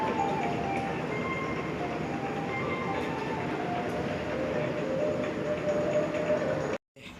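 A passenger train on the Indonesian rail line out of Probolinggo station, with a steady loud rumble and rattle of wheels on rails, heard close from inside the carriage until it cuts off abruptly near the end.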